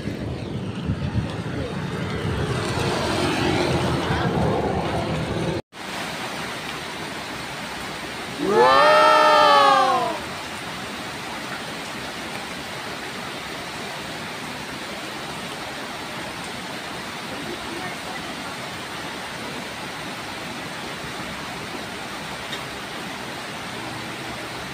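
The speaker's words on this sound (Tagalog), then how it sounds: "kasi walang tigil ang ulan" Heavy, unrelenting rain during the Crising storm in Pasig pours as a steady broadband hiss throughout, louder early on, with a brief excited exclamation from a voice partway through.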